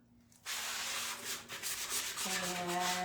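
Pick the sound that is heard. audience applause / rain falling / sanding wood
sanding wood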